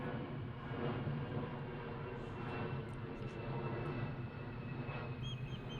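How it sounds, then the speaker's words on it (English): A Ryanair airliner comes in toward Prestwick Airport in Ayrshire. Its engines make a steady, distant drone that stays fairly faint and even throughout. "a Ryanair flight coming into Prestwick Airport from somewhere"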